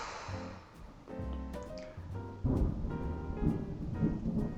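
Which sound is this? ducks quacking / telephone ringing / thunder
thunder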